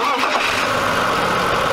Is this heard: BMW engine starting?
yes